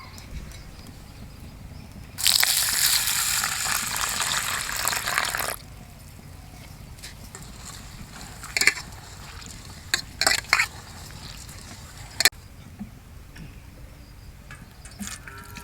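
Masoor dal lentils being washed in water, a burst of running, splashing water for about three seconds followed by a few brief sloshes and clinks, with no talking.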